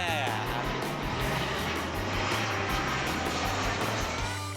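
Regional planes on night approach to the main runway at Toronto Pearson Airport pass low overhead, giving a loud, continuous engine roar with a throbbing low drone that fills the whole moment.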